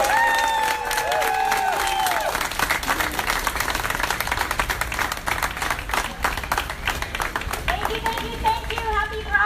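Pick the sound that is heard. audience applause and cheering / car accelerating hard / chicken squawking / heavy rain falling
audience applause and cheering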